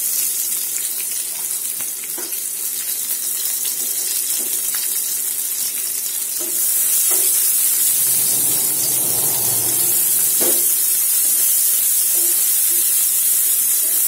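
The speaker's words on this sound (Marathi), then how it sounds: "आता आपण याच्यामध्ये बारीक चिरलेला कांदा टाकूया" Steady hiss of frying in hot oil, growing louder and brighter partway through as finely chopped onion is added for palak paneer, with faint clinks and no talking.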